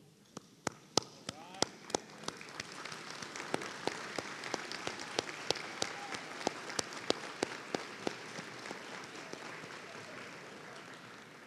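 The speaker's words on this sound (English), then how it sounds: "please take a moment right now to stand and applaud all those people that came here to" Graduates at a spring morning commencement ceremony stand and applaud their supporters; scattered, fairly distant individual claps build into a moderate, steady round of applause in a large hall.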